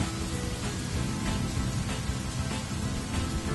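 Steady, dense rain hisses and pours continuously, with a low rumbling undertone suggesting distant thunder, and no voices.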